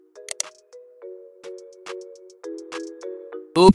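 Bright notification bell chimes ring out clearly on their own, a series of sustained tonal dings spaced across the stretch, ending in a sharper burst.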